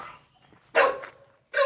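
A dog gives two loud, close barks about a second apart, with a quieter trailing sound before the first and brief silence between them.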